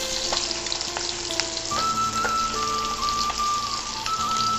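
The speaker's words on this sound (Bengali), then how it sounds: "এদিকে এই যে মাছ ভাজাগুলো বসিয়ে দিয়েছি।" Fish pieces sizzle steadily in a hot pan in a home kitchen, a dense continuous crackle with scattered pops and a faint tonal whine, close and fairly loud throughout with no talking.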